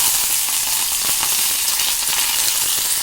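Mustard seeds and curry leaves sizzling and crackling in hot sesame oil while tempering for tomato chutney, a steady bright hiss with small popping bursts, close and continuous.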